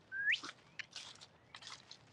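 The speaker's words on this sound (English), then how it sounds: "Oh no, that was a bird." A bird calling outdoors with a sharp rising whistle followed by several short chirps and scratchy notes, fairly near and clear against a quiet background.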